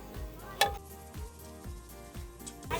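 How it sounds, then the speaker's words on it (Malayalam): Fish curry soured with tamarind water simmers in a pot, giving off a soft bubbling sizzle with a regular pulse of low pops and an occasional light utensil clink. "മീനൊക്കെ തിളച്ചിട്ടുണ്ട്."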